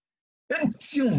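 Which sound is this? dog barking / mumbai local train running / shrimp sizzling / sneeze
sneeze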